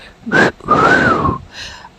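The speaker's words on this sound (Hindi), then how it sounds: "सीटी बजाती है" A person whistles once, a short breathy rising-then-falling whistle, loud and close, preceded by a brief burst of breath or noise and followed by faint fading sound.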